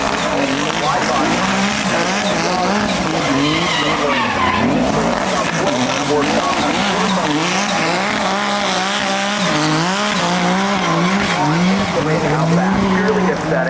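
Turbocharged wide-body drift car at the Goodwood Festival of Speed, sliding with loud continuous tire squeal and a revving engine that rises and falls throughout, with crowd or commentary noise beneath.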